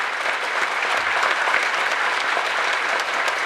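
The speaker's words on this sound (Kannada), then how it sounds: "ಇನ್ನೂ ಚೆನ್ನಾಗಿ ಚಪ್ಪಾಳೆ ಹೊಡಿಬೋದು" Sustained applause from an audience at a Kargil-to-Sindoor heroes' tribute event in Sarjapur, a steady dense wash of clapping hands filling the whole stretch without letup.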